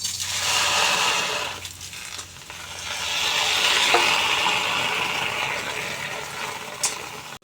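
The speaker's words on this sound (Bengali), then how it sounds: "এবার ডালগুলো দিয়ে দেবো কড়াইতে" Washed moong dal going into a hot kadai, giving a steady broad sizzling hiss that dips briefly and then swells again, close and continuous, with a small clink near the end.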